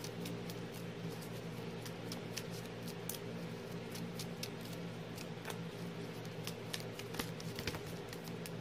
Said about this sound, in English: Shuffle our hand back into our deck and draw 6 cards.